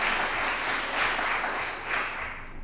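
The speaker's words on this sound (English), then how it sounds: "y'all can pause and clap if you want." An audience claps in a room for the state's newest Board of Education appointee, a short burst of moderate applause swelling and fading in waves, with no voices over it.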